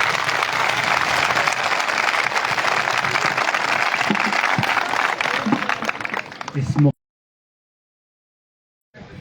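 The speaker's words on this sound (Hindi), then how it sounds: "एक बार फिर जोरदार ताली।" Loud, sustained audience applause at a government high secondary school fills the space with dense clapping for about seven seconds, then cuts off abruptly into silence.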